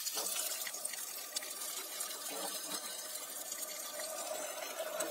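A continuous hiss of water spraying under pressure from a water pump under repair, steady and fairly close, with no voices.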